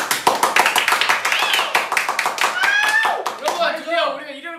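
Rapid, sharp hand claps in a quick rhythm, with excited voices and squeals mixed over them, close and lively, during a K-pop band member's birthday livestream.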